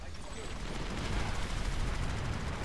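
Held-trigger automatic fire from a PlanetSide 2 weapon rattles in a dense continuous burst, loud and close, with a voice partly mixed in.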